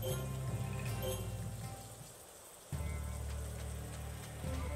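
Steady rain patter in the video game Sakuna: Of Rice and Ruin, moderately loud, over a low tonal game soundtrack that dips briefly midway and then returns.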